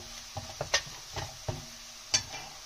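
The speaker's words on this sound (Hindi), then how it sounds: "और अब हम इसको स्लो स्लोली इसमें भूनेंगे।" Spices such as red chilli powder, turmeric and coriander powder roast slowly in a pan for an arbi curry, heard as sparse, quiet scrapes and clicks of stirring over a faint background.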